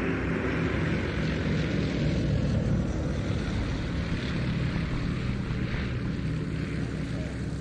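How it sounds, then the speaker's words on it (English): Vintage propeller aircraft flying past in display formation at the IWM Duxford flying evening, a broad steady engine drone sustained throughout, fairly loud and continuous with a breezy rush. "in the aircraft that's at the top of the formation, the one with the yellow elements to the colour scheme, is Comrade 2, Alex Luton."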